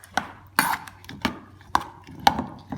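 Peas being mixed into beaten egg for a frittata, a series of sharp, close taps and knocks of a utensil against a bowl at an uneven rhythm, with no talking.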